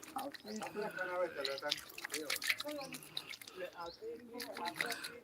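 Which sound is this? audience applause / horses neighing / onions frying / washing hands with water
washing hands with water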